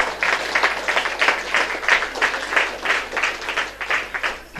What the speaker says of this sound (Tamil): இவருக்கு ஒரு கைத்தட்டு கொடுங்க